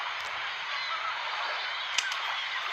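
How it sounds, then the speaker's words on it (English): A flock of birds honks continuously inside a station in the video game Syberia, a dense, hissy wash of calls held at a steady level with one brief louder note. "All these birds in a station."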